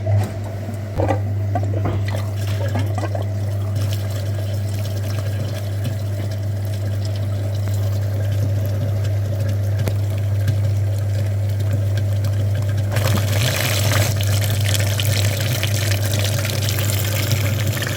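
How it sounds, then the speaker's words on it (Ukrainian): A flushing machine pumping water through the heater core of a Jeep Grand Cherokee, a loud steady motor hum with continuous rushing water, growing brighter and noisier near the end. "Робили підключення на радіатор пічки, чистенький фільтр, включаємо апарат."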